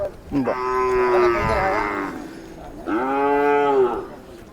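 Two long, loud moos from a Khillar bull at a cattle market, each a deep drawn-out bellow with a falling end, separated by a short pause, close by with no talking.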